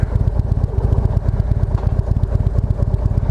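A motorcycle engine pulses close and loud in a steady, rapid rumble with some light clatter as the bike slows to a stop on gravel in a shady spot. No one speaks.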